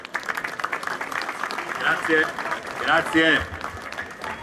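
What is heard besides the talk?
applause for a senator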